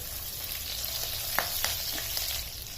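Curry leaves and green chillies sizzle in hot oil while tempering Udupi-style curd upma, a steady close fizz with a few faint clicks and no talking.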